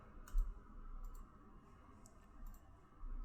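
Computer mouse clicks in a desk setting, a few short sharp clicks spaced out over a low steady room hum, close and fairly quiet, with no voices.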